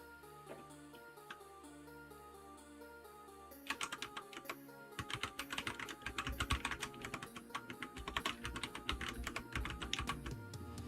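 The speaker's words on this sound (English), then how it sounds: "Is it just typing or is it viewing the keyboard?" Someone types steadily on a computer keyboard, the keys clicking close and crisp. It starts sparse, then turns into a fast, dense run of keystrokes with no voices.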